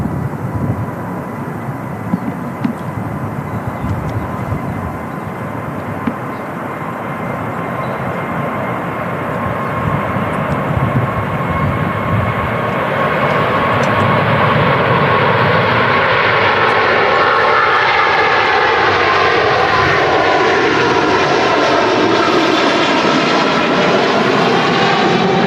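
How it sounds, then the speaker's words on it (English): A Singapore airliner's jet engines roar through its takeoff roll at Manchester Airport, a steady, loud rumble building in intensity over many seconds, heard from a distance. "Singapore already starting its takeoff roll."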